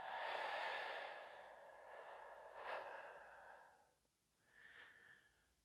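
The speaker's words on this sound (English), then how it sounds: "Take a deep breath in and out." A slow, deep breath drawn in and released during a shiatsu Do-In session, a long airy exhale followed by a quieter second breath, close and alone.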